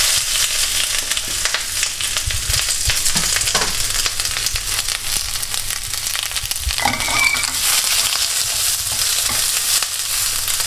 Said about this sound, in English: Straight into a really hot wok with very little oil.